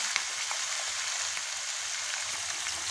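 Chicken frying in hot oil in a pan, a continuous, close crackling sizzle with scattered pops, steady throughout with no one speaking.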